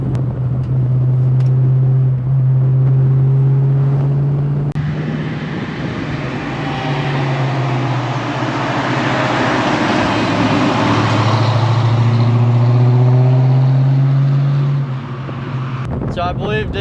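Engine of a Fox Body Ford Mustang, a family car, running with a deep steady drone that swells and eases amid gusty wind noise outdoors, with a person talking over it.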